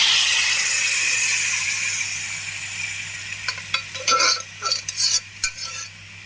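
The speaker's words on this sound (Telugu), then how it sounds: "ఆ కాకరకాయ కూర వేసుకుందాం ఇందులో" Spiny gourd curry being stirred in a pan after boiling, with a steady steamy sizzle that fades, then several distinct close scraping stirs of a utensil against the pan.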